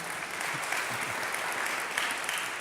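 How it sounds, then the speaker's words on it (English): Warm audience applause for a design team at a live talk event, a fairly soft, even patter of many hands heard from a distance, steady throughout without speech. "give them a round of applause"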